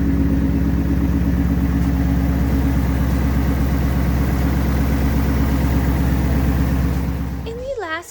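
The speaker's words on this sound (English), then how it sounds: "I'll show you a quick peek here at the engine while it's running" A 2019 Ford Mustang GT V8 idles close by with a deep, steady burble throughout, cutting off near the end.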